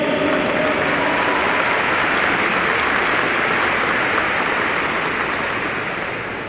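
A graduation ceremony crowd at the CMPM Waldock Fricke military police school in Manaus claps loudly and steadily, a dense, unbroken roar of hands that fades slightly at the end.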